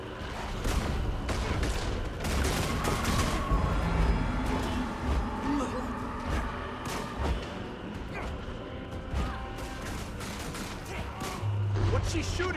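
Rapid bursts of enemy gunfire in the game Guild Wars 2 crackle in clusters over a busy rumbling background, with a voice speaking through parts of the fight.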